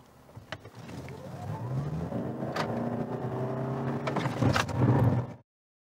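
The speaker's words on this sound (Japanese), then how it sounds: "時速50キロからブレーキ踏んでみたいと思います。" A car on Yokohama ADVAN dB V553 tyres brakes hard from 50 km/h on a wet road, a rising engine and tyre drone swelling to a loud surge before stopping abruptly, with a few thumps along the way.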